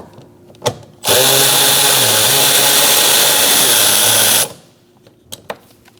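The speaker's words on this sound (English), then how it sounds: "Now we're going to use a 7mm socket and take out this bolt." A power tool with a 7mm socket drives out a bolt on a 2012-2020 Chevrolet Sonic front door panel. It makes one steady, loud whirring burst of about three and a half seconds, with small clicks before and after.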